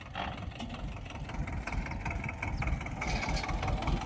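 A tractor engine idles at a watermelon harvest field, a steady low rumble close by, with faint outdoor activity behind it and no clear talk.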